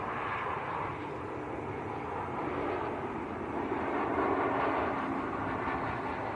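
Turkish Airlines Airbus A321ceo jet at Manchester Airport, a steady broadband engine roar holding at an even, fairly distant level throughout with no talk over it.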